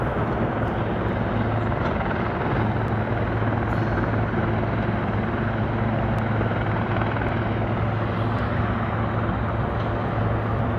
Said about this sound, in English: And there goes the chopper.